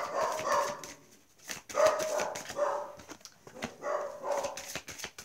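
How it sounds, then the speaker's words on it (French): A dog barks in a series of short, moderately close bursts with quiet gaps between them, and no one talks over it. "Marvin Margot, je sais que vous êtes allé le voir parce qu'il aboie"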